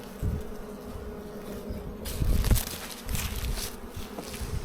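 Steady buzzing of many honey bees close by, from nucleus colonies being unpacked, a dense droning hum with some swells in loudness and no voices.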